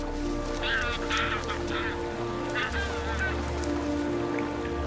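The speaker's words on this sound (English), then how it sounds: "But for the Magellan goose, it is a paradise." Magellan geese honk in a series of short, moderately close calls over a windswept Andean landscape, with a low steady background rumble and a voice speaking through part of it.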